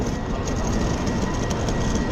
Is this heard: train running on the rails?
yes